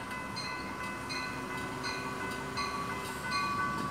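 Passenger train pushed from the rear by its engine at the back, a steady rumble with faint periodic clicking over a constant hum, moderately loud and continuous.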